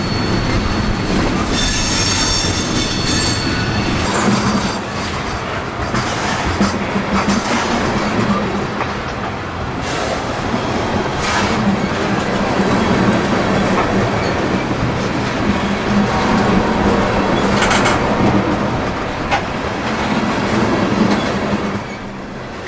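Coal hopper freight train bound for Seminole Electric rolls slowly past near a Tennessee River crossing in Decatur, Alabama, with a steady loud rumble of wheels, rhythmic clickety-clack over rail joints and occasional high wheel squeal, continuous throughout.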